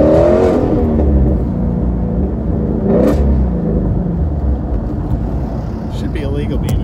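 A high-performance car with sticky tires rumbles and revs nearby, a loud low engine roar with a surge midway, as people talk over it.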